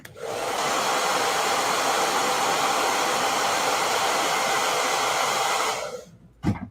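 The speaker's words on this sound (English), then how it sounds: "I hit this with a blow dryer." A hair dryer blows steadily and loudly for several seconds over a painting, a constant whooshing roar, then switches off with a brief clunk at the end.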